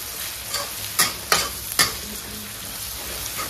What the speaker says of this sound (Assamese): এইখিনি ধুনীয়াকৈ ভাজি লওঁ